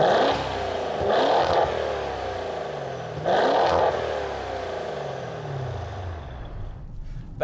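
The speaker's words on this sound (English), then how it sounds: "give it a couple revs, because it is a twin turbo V8, right?" Twin-turbo V8 of a Maserati Ghibli Trofeo revving while parked, two sharp throttle blips rising and falling with turbo whoosh, then settling into a quieter idle that fades out.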